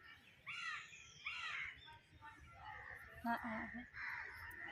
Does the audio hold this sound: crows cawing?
yes